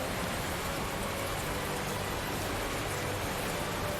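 Heavy downpour in the Tales of Zestiria video game, a dense, even hiss of rain that runs steadily without pause and carries no voices.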